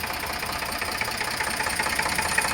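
An Eicher 485 power-steering tractor in original condition sits idling, its engine giving a steady, rattling mid-pitched drone with a faint knocking pulse, close and continuous.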